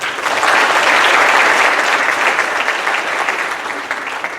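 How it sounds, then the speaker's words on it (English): Audience applause fills a high school senior athletic awards ceremony, a dense, steady wash of many hands clapping that holds loud and continuous before easing slightly toward the end. "there's going to be a lot of applause tonight"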